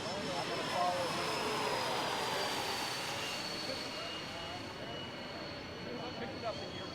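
A large HSD 747 EDF RC jet flies a low gear pass, its electric ducted fans giving a steady, loud whine and rush that fades slightly as it passes by at a distance.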